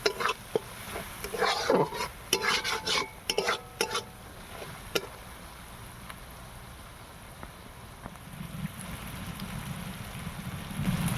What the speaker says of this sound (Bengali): ভালো করে মশলাগুলো কষিয়ে নিতে হবে